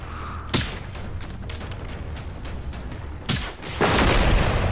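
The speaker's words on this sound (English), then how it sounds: "Oh, what an explosion, but the thing's still alive." Explosions in the video game Generation Zero boom in two heavy bursts, the second rolling into a sustained rumble over a constant noisy background.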